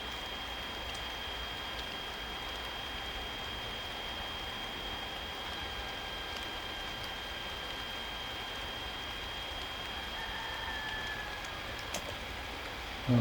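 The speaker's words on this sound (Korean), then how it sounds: "비가 오니까" Steady rain falls outdoors on a pear orchard during a typhoon period, a continuous soft hiss of drops at an even level throughout, with no voices.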